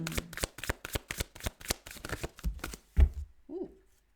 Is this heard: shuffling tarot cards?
yes